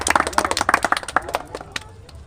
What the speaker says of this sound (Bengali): একবার জোরে হাততালি হয়ে যাক হেবলাদার জন্য